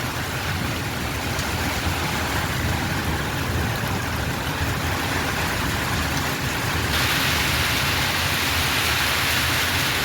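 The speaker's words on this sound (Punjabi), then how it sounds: "ਬੜੀ ਭਿਆਨਕ بارش ਹੋ ਰਹੀ ਹੈਗੀ ਬਹੁਤ ਜ਼ਿਆਦਾ بارش ਹੋ ਰਹੀ ਹੈਗੀ" Heavy downpour pounds the town of Samana in Punjab, a dense, loud and unbroken roar of rain with slow-moving vehicles on the road beneath it. There is no talking.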